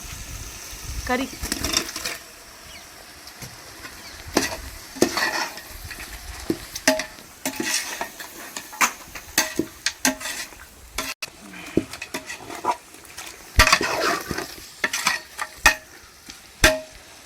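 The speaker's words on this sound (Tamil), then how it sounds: "கறி போடுவோமா அடுத்து" Meat goes into biryani masala frying in a large pot and is stirred, with repeated metallic scrapes and clanks of a ladle over a steady sizzle, close up; a person talks at times.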